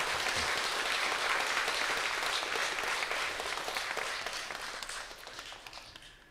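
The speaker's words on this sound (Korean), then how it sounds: "예, 큰 박수로 축하해 주십시오." At a Buddhist precepts ceremony at LA Dharma Sa temple, a congregation bursts into sustained clapping. The applause is steady and fairly distant, then gradually fades over about six seconds.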